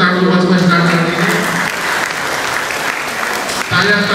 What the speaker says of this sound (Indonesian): terima kasih tepuk tangan buat semua saudara hari ini.